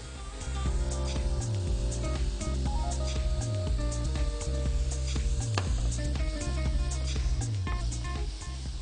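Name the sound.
roasting chili and lemon mix in a frying pan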